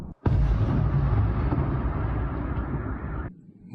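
A massive deep explosion bursts in and roars on for about three seconds before cutting off, loud and rumbling with no voices, during a rocket strike in Crimea.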